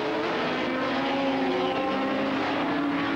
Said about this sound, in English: Schanke takes him as they go into the right-hander at Chesson's Drift.